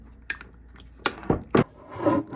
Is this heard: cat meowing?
no